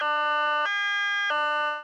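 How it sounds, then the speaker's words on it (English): A two-tone high-low evacuation siren alternates between a higher and a lower pitch, loud and steady with no pauses, sounding alone without any voices. "Listen for the high-low sirens."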